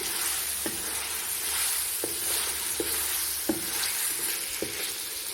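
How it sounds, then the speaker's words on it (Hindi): Potatoes stirred into sizzling masala on a low flame for aloo moongre, a steady frying hiss with several soft scraping stirs spaced through it, close and fairly loud, no voices. "अब हम इसमें आलू ऐड करेंगे, मिक्स करेंगे।"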